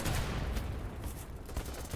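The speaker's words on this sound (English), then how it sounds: "I need to move away from gunfire." Gunfire from the video game BattleBit rattles in dense overlapping bursts, a continuous volley of shots at moderate distance with no clear gaps.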